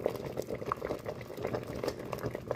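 Pig ears boiling in water seasoned with seasoning salt make a steady, close bubbling and popping with continuous liquid churning, heard alone without talk.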